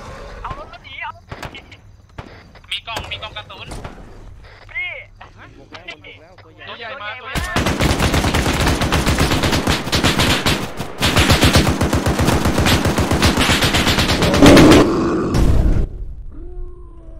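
Sustained automatic gunfire from the Arma 3 video game during a zombie mode session, with loud continuous bursts and rapid shots over several seconds after calmer stretches, while players talk in Thai over voice comms.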